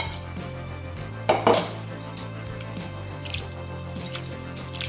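Dal lentils rinsed in water in a metal pot give a few close clinks and sloshing splashes over a steady background hum.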